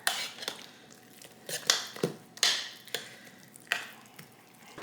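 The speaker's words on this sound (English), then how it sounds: "Stir that in." Spoon stirring salt into a Thanksgiving dish in a pot, a close series of irregular scrapes and clinks against the cookware, each stroke distinct, with no talking.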